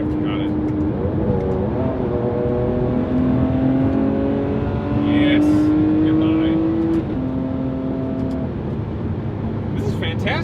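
A Ferrari 599 GTB drives and accelerates, its engine note climbing in steady harmonic sweeps through several gear changes, loud and close from inside the cabin, with brief talk over it.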